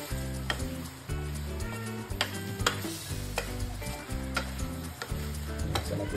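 Garlic butter shrimp sizzles in a pan while being stirred and turned from bottom to top, with repeated scraping and clinking strokes over a steady frying hiss and a rhythmic low thumping in the background.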